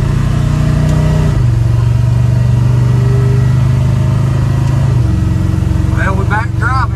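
A work truck drives along after repairs, its engine droning loud and steady with a shift in pitch partway through, road rumble constant throughout.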